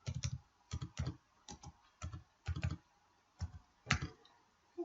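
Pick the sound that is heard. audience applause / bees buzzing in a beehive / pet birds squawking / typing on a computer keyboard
typing on a computer keyboard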